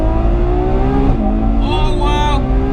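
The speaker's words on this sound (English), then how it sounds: "I'm sure you can hear those gear shifts" Ferrari 812 Superfast front-engined V12 accelerating hard, loud and close, its engine note climbing, dipping sharply at a quick gear shift, then rising again to a high, strained wail.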